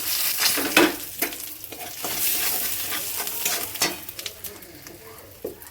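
Whole garam masala spices and a bay leaf sizzle in hot oil in a kadai, a steady loud crackling hiss with scattered pops and stirring scrapes, close by and without talk.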